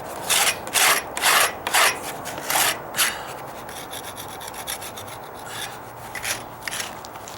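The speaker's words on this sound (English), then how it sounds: "so I can just scrape it down" A scraper rasps across hardened Durham's Rock Hard Water Putty on a wooden deck patch in about six short, firm strokes, then lighter intermittent scuffs trail off, close by with no talking.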